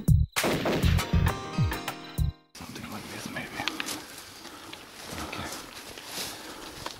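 A single sharp rifle shot at a Cape buffalo on an African hunt rings out, followed by rustling, movement and outdoor ambience, with people talking around it.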